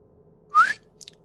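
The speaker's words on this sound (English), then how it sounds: "can you not whistle? Because that's really hard on my ears" A person gives one short rising whistle, clear and close, followed by a couple of faint higher chirps in an otherwise quiet space.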